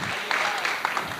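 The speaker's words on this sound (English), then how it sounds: "Big round of applause." Brief burst of audience applause at an animal control and protection summit, a moderate wash of clapping with a few sharper claps and murmured voices mixed in.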